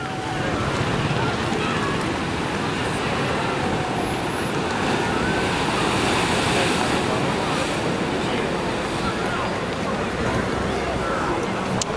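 Ocean waves breaking at the beach in Biarritz, a steady broadband roar of surf throughout, with a constant wash of water and distant crowd ambience but no clear separate voices.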